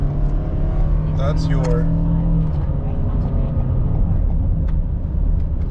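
A 2021 Toyota Sienna LE Hybrid van accelerates, its engine and road noise a steady hum with a rising tone, while a voice talks over it briefly.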